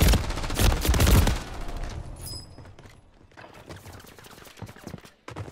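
Rapid bursts of video game gunfire fill the opening, loud and dense, then give way to quieter scattered shots and game noise.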